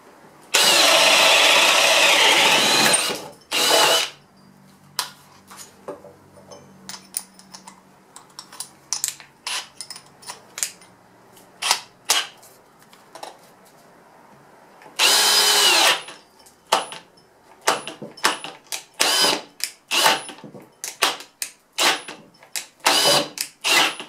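A ToolPRO 18v hammer drill bores with a speed bore bit in two sustained loud bursts, separated by many short stop-start pulses and clicks as the drill struggles for power, heard up close with no talk.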